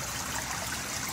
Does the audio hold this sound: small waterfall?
yes